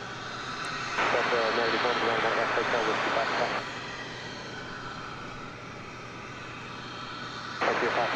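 A Frontier Airlines plane in America's Green livery taxis at DFW Airport, its engine drone steady and fairly distant, with bursts of louder broadband noise that come and go.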